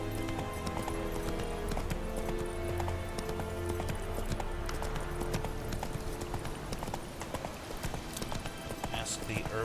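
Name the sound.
horse Roach's hooves in the video game Witcher 3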